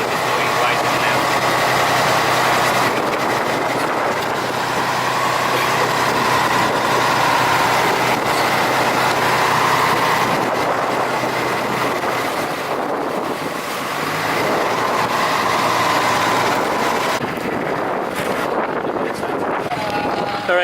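Engine of a passenger boat crossing from Ivana to Sabtang in Batanes, a steady loud drone mixed with wind buffeting and water noise throughout, with a voice speaking over it.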